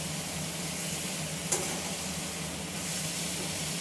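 Taro leaves stirred with spices in a hot pan, a steady loud sizzle and hiss throughout with a single brief scrape of the spatula near the middle, close up, no talk.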